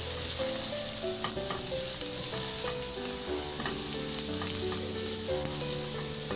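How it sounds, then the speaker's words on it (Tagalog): Garlic sautés in a hot pan for Filipino pork estofado, giving a steady, even sizzle that runs the whole time beneath melodic background music. "Sa disim na kawali, igisa ko na rin yung bawang."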